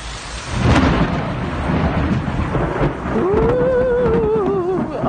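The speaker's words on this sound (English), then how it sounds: "that gives me goosebumps when I hear thunder like that" Heavy rain pours steadily while deep thunder rumbles and cracks close by during a thunderstorm near Lake Mead, building into a long rolling peal near the end.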